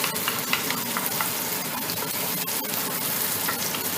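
Onions cook down in a hot pan for smothered pork chops, a dense sizzle mixed with scraping and stirring clicks from a utensil moving them around, close and continuous.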